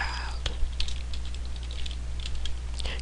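Fast, irregular clicking of keys on a computer keyboard, typed close to the microphone over a steady low electrical hum, with no talking.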